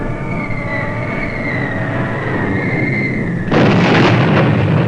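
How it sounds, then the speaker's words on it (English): Archival sound of the Japanese bombing attack on Pearl Harbor in December 1941: a sustained droning hum gives way abruptly to a loud, roaring explosive blast that fills the end. "December 7th, 1941. Japan bombs Pearl Harbor."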